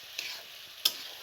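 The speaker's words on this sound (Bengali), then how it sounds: "মাছটা একটু কষাবো সবজির সাথে।" Kachki fish is stirred and fried with vegetables in a pan: two quick, sharp scraping strokes over a faint, steady sizzle.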